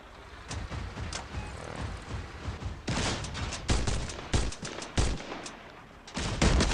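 Gunfire in an online shooter video game: bursts of shots and salvos, some sharp and rapid, others more distant, over a steady background rumble, with no speech.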